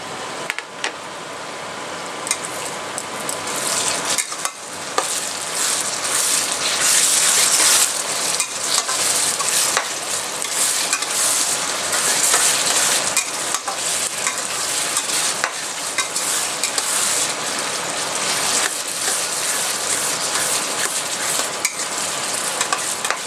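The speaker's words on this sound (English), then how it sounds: "Keep stirring so that it doesn't stick to the bottom of the pan." Mutton curry with tomatoes is stirred in a frying pan, with a loud, steady sizzle and a long run of spoon scrapes and clatter against the pan, close up and without voices.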